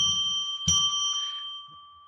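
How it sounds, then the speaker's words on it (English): Small bell struck once with a clear ringing tone that decays slowly, rung on a live psychic radio broadcast to open sacred space; one strike is evident, the sound near and moderately loud with no talk. "I'm going to ring a bell 3 times now to declare sacred space"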